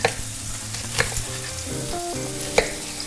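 Chicken pieces fry in a single pan, a continuous close sizzle with a few sharp spits and clatters, and no voices over it.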